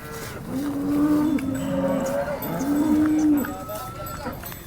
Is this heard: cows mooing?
yes